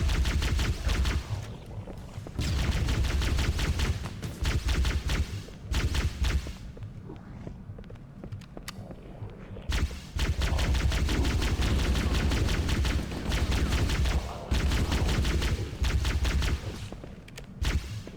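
Rapid bursts of plasma rifle fire in Halo: Combat Evolved Anniversary, loud and close, with short pauses between volleys and no talking.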